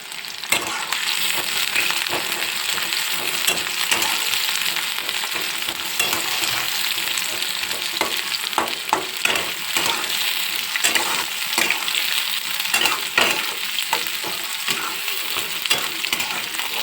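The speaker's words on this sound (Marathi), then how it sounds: "आता त्यात आपण कांदा टाकून परतून घ्यायचे." Onions frying in hot oil in a kadhai for chicken fry, a loud continuous sizzle broken by frequent scraping and clattering strokes of a spatula stirring, with no talking.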